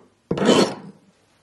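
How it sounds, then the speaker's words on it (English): A coarse file rasps across a small miniature piece in one short, gritty stroke, close and loud, fading out in quiet surroundings. "I am using quite a coarse file, as you can hear, just to speed up the process a bit."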